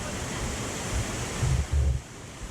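Steady rushing waterfall carried on a breeze, a broad constant wash of water noise with a few low wind buffets on the microphone toward the end.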